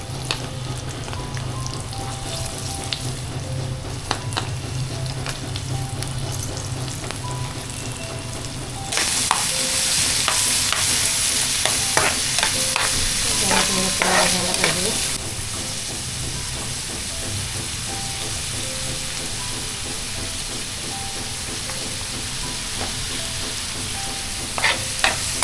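Garlic, onion and green chilli frying in a pan for a spicy crab curry, a continuous close sizzle with stirring, flaring much louder for several seconds midway before settling back.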